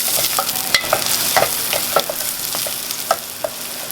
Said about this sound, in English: So we're gonna brown the garlic first. Saute it a little bit